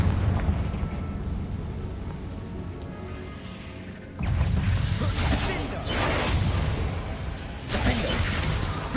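A Confringo fire spell cast in the video game Hogwarts Legacy bursts with a loud, shattering explosive blast about midway, followed by further booming impacts over a dense, rumbling game soundscape with a voice shouting.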